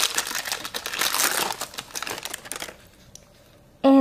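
Plastic blind bag packaging crinkles and crumples loudly and steadily as it is torn open, then quiets to faint rustles before an abrupt loud tone cuts in at the end.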